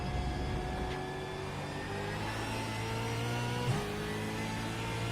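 A V8 Supercar engine in a racing video game drones steadily with shifting tones, with a quick throttle blip partway through, all close and continuous with no talk.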